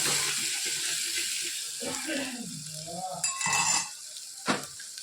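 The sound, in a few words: stirring red chili, coriander-cumin and garam masala in a pan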